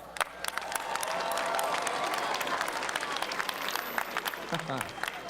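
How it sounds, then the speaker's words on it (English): A large crowd at the 24th World Scout Jamboree opening ceremony in West Virginia applauds the flag bearers, dense clapping with some cheering that builds and holds, then thins toward the end as a voice comes in. "Let's give them a big round of applause"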